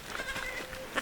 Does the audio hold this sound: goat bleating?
yes